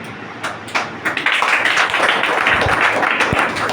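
Audience clapping at a Hindi-language business plan presentation, starting with a few scattered claps and swelling into steady applause.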